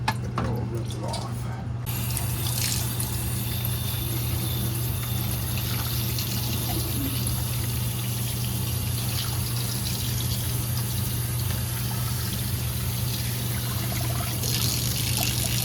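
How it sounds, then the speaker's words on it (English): Water trickles and drains steadily from a Nio bean-to-cup coffee machine during cleaning, a continuous close liquid dribble under a low hum. "Just let it drain out a little bit. And then we'll rinse it off."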